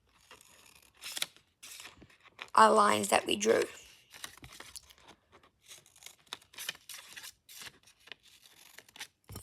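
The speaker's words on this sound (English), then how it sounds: "we're going to get scissors and cut along" Scissors snip through origami paper in a brief burst of crisp cuts, with someone talking quietly before and after.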